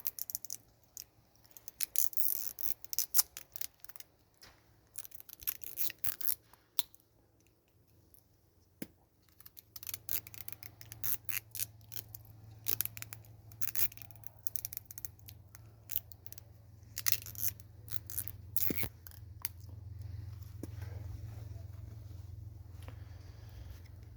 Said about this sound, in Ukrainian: ми змотуємо ці дві кліточки з собою скотчем.